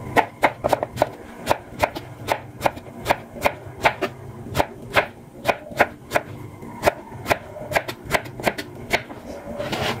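A knife chops tomatoes, onions and garlic on a cutting board in a home kitchen, giving a steady series of sharp, close taps, each cleanly separated, with no talking.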